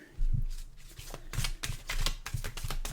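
Oracle cards shuffled by hand in a steady burst of papery riffles and flicks, close and fairly loud, with no talking over them.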